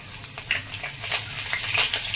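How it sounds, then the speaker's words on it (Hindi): Mustard seeds, cumin and curry leaves sizzle in hot oil with a loud, close hiss dotted with sharp pops and crackles that build slightly toward the end. "आता आपण ह्यामध्ये राई जिरं घालून घ्यायचं आहे, कढीपत्ता घालायचा आहे"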